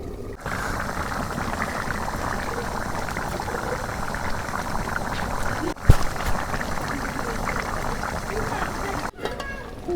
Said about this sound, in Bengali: এই দেখো মাংস কষানো হয় নাই, হয়ে আইতেছে।